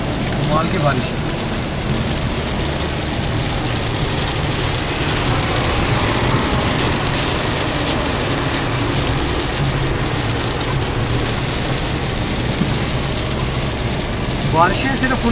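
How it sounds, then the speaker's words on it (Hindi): Heavy rain falling in Moscow, a loud constant wash of drops on surfaces with faint traffic underneath, steady for about fifteen seconds. "कमाल की बारिश है।"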